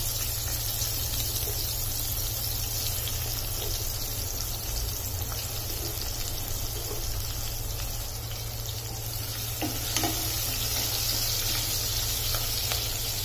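Thinly sliced onion fries in oil for dal khichada, producing a continuous, fairly faint hiss and sizzle throughout with occasional soft scrapes, under a low steady background hum.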